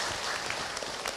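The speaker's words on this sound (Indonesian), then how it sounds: "Tepuk tangan untuk kita semua." An audience at a religious talk applauds together, a soft, continuous patter of many hands clapping at a distance, fairly faint and steady.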